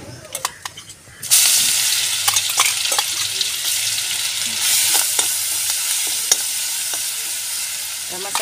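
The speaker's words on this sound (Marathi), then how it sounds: "हा मसाला चांगला भाजून घेऊया म्हणजे मिरची चांगली भाजली जाते" Ground masala with raw green chillies roasts in hot oil over mustard seeds and cumin for home-style vada pav, a loud, steady close sizzle that starts abruptly and runs on with scattered stirring clicks.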